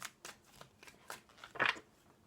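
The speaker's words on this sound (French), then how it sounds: "on garde ces cartes et on va venir recouvrir avec cet oracle" Oracle cards being shuffled by hand during a tarot-style reading, giving a series of soft, papery riffles and flicks at a quiet level, with one louder burst of shuffling near the end and no talking.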